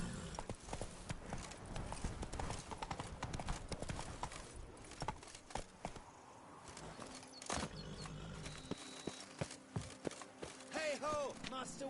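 Roach, the horse in The Witcher 3: Wild Hunt, trots with brisk clip-clopping hooves in a quick rhythm, close and clear against game ambience, with a voice speaking and a few bright chimes near the end.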